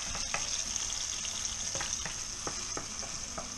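Vegetables sizzle and fry in a hot pan for a lobster fra diablo, a steady bright hiss with scattered crackles and occasional stirring scrapes, close and continuous with no talking.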